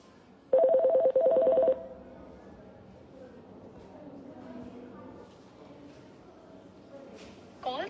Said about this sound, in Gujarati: ચૈતરભાઈને આપણે ફોન લગાવવા માટે ટ્રાય કરીએ પણ કદાચ એમનો ફોન લાગી નથી રહ્યો.